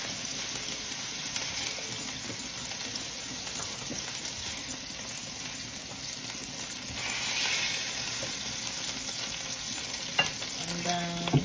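Salisbury steak patties sear in a hot pan with a continuous crackling sizzle, swelling midway as they are moved and turned, with a few sharp scrapes near the end.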